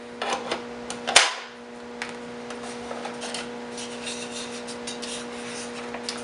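A quick-snap air filter cover on a Dolmar PS-7910 chainsaw gives a single sharp plastic click after brief handling and rubbing, followed by a low steady background hum.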